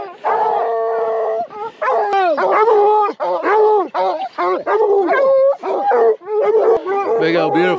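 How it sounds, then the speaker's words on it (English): Hunting dogs bay and howl at a mountain lion treed in snowy bluffs, a loud, continuous chorus of overlapping yips, barks and drawn-out howls close by. "Dogs are barking treed."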